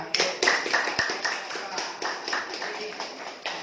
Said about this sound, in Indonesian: beri aplaus yang mulia